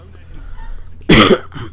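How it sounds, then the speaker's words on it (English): A single harsh cough bursts out close to the mic after a quiet stretch, followed by a shorter, fainter second cough. "I hate that I'm coughing during this."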